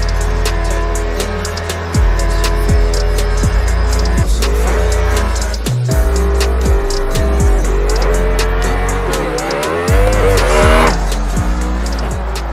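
A race car lapping a track in Assetto Corsa, loud engine revving up through the gears with abrupt shift cuts, tire squeal and a whining drone that rises and falls near throughout.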